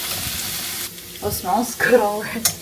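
Garlic sizzles in a hot pan while water spinach is cooked in a home kitchen, a soft frying hiss with a few stirring sounds, heard under a person talking.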